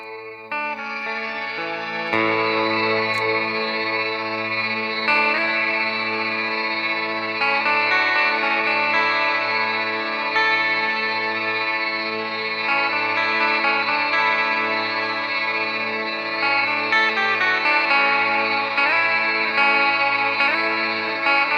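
Sustained electric guitar chords through an OBNE DarkLight pedal on its DarkStar side, washed in lush ambient reverb and shimmer, notes blooming and overlapping into a dense, steady wash of sound.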